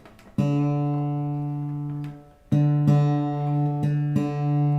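A low guitar string rings out, then is plucked again several times as its pitch is nudged upward, clear and close with no talking.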